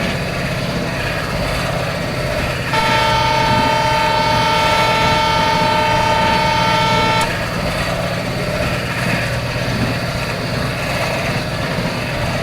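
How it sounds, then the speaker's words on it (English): A diesel train overtaking a freight train in an Indian Railways train simulator game: a loud, continuous engine and rolling rumble, with a long sustained horn blast sounding for several seconds in the middle. "we are just overtaking one more freight train in the left side of our train"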